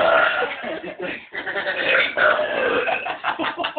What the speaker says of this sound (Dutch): Dat is een normale boer